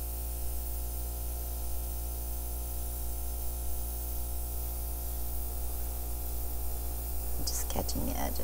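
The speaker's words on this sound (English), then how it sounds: "I think if I airbrush a little bit, I can round them back out." An airbrush sprays acrylic paint to round out the edges of a bottle-bottom rainbow acrylic pour, giving a steady, close hiss with a constant low hum beneath and a few brief extra sputters near the end.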